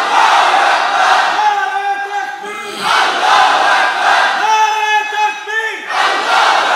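A large crowd at an outdoor religious rally shouts slogans in unison, loud, rhythmic chanted bursts rising and falling in repeated waves, with a lead voice calling and the mass responding.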